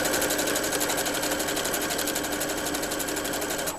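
A home sewing machine stitches a fabric Christmas stocking, its motor running in a steady, even whir with a rapid needle rhythm throughout, close and loud with no voices.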